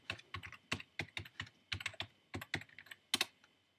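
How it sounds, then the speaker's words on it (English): Rapid, uneven keystrokes on a computer keyboard as a webpage address is typed, a close, clear burst of clicks and taps with brief pauses and no talking. "If I can actually type in my own webpage correctly,"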